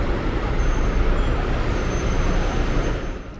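A JCA group bus, fleet number 3733, pulls into the Novo Rio bus station in Rio de Janeiro with a steady, loud rumble of engine and road noise, easing slightly toward the end.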